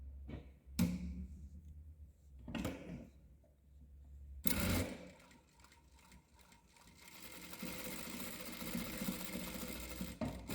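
A Kingstar KS-H7 machine sews 12 gauge jersey, starting with a few short separate bursts and then running as a steady close mechanical whir through the final seconds.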